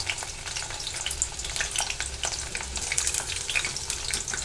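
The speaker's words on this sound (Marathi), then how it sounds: "त्याला मी व्यवस्थित परतून घेणार आहे लालसर रंग येऊपर्यंत" Cauliflower florets stir-fry in hot oil for a mixed vegetable dish, producing a close crackling sizzle with frequent sharp spatters and stirring noises, and no voices.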